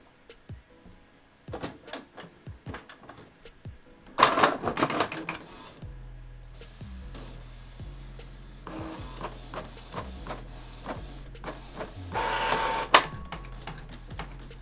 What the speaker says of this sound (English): As you can see, I'm printing out a document from my LG device to